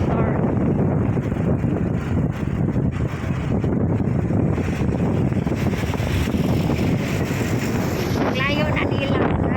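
Riding along on a motorbike, strong wind buffets the microphone in a constant roaring rush, with engine drone underneath throughout.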